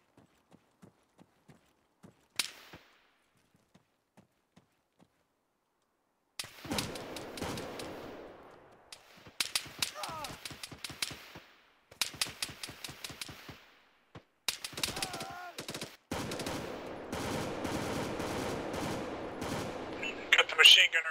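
Machine gun fire in the video game Arma 3, bursts of rapid shots arriving in repeated loud clusters after a quieter opening of sparse distant pops, with some clip-clop-like rhythmic impacts.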